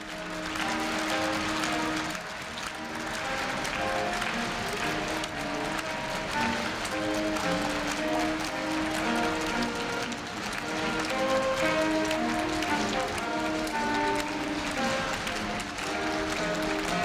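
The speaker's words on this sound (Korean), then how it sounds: "네, 박수 부탁드립니다." Sustained applause from the crowd at the 2015 Korea University freshman entrance ceremony sends off the president and faculty, a thick, steady wash of clapping with brief dips in intensity along the way.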